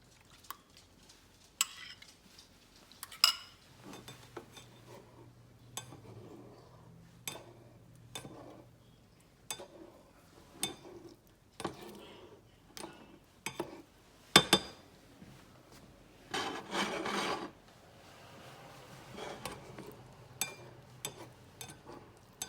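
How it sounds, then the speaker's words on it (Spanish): Scrambled egg cooking in a small frying pan with olive oil, heard as scattered clinks and scrapes of a utensil against the pan with faint sizzling, in short irregular bursts close by. "Aquí estoy terminando de cocinar mi huevito revuelto"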